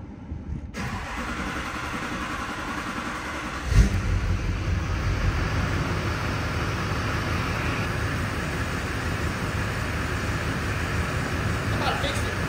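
A cheap used Duramax diesel pickup engine cranks, catches with a sudden burst and then runs at a steady loud rumble close by, with voices talking over it.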